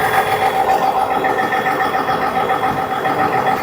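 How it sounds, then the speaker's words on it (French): A Chevrolet Silverado's 3-litre Duramax turbo diesel runs at a steady, quiet idle, close by and continuous with no talking. "Il fait vraiment pas de bruit ce petit diesel"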